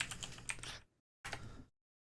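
Repeated presses on a stuck backspace key of a computer keyboard, two short bursts of close clicking and clattering separated by a brief pause, with no talking.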